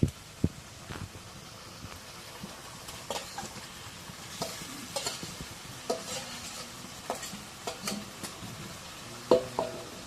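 Meat is stirred into a pan of sizzling spices, with a steady frying hiss broken by repeated scraping knocks of the spoon against the pot. It sounds close and moderately loud, with no talk.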